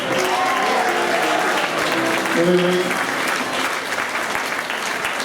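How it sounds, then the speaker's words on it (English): Audience applause for an Italian captain being introduced aboard the Golden Princess cruise ship at sea, a steady roll of clapping that fills the room throughout, with someone speaking over it near the middle. "Keep your applause rolling."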